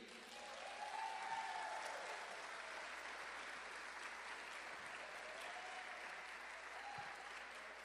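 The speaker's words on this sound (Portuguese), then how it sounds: "a turma, por favor, agradeça a Deus com aplausos pela presença deles" Steady applause from a crowd at a theology workshop fills the whole stretch, dense and even, with a few faint voices rising briefly above the clapping.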